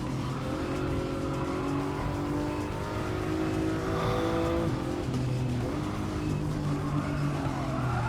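Aston Martin race car in Gran Turismo 7, engine droning steadily and loudly throughout with shifting revs and faint tire squeal as it corners.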